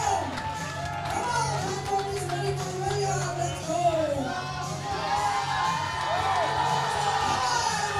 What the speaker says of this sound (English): Look at that crowd. Listen to that crowd.